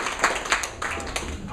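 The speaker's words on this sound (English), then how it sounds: "let's give a round of applause for John right now" Live panel audience clapping, a dense patter of many hands in an indoor event space, steady and moderately loud for the whole moment with a few sharper claps standing out.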